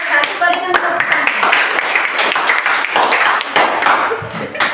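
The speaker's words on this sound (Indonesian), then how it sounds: "berikan tepuk tangan." A class claps at the end of a group presentation in a school room: fast, uneven hand claps close by, mixed with voices talking over them.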